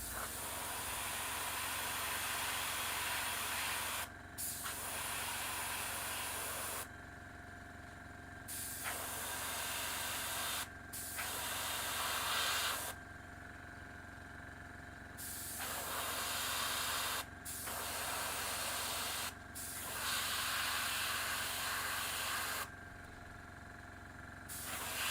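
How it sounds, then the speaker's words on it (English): An airbrush sprays paint onto a model as a steady close hiss in long bursts of several seconds, broken by short pauses, with a low hum underneath throughout. "I may have to give the airbrush a little bit of a break"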